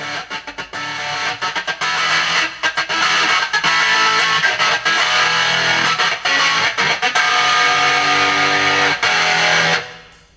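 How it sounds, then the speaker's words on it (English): A MUZA GP300 multi-effects pedal puts out a loud, choppy distorted guitar tone with percussive, staccato attacks and brief gaps, playing nonstop before cutting off sharply at the end. "So again, another demonstration of that really percussive kind of distortion you can get"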